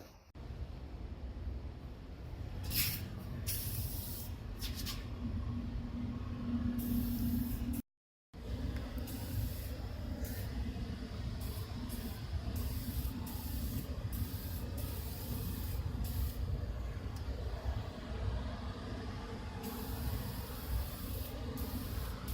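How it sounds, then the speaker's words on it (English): Continuous spray painting of tool stands hisses almost the whole time, close and steady, broken by one brief silence and some intermittent higher bursts. "I just got done spraying and wiping down all the stands"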